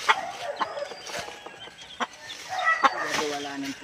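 Chickens clucking in short, scattered bursts near a coop, fairly faint, with a rooster-like call and other farmyard noises mixed in.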